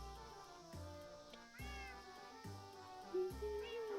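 A cat meows in a video game, repeated cries rising and falling over steady music with a game tone, several calls spread across the span at moderate loudness.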